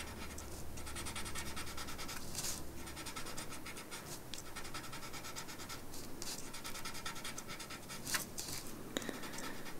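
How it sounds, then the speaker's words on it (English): Graphite pencil blended into paper, a soft continuous scratching and rubbing close up, steady strokes with small pauses and no talk over it. "blend your graphite into the paper"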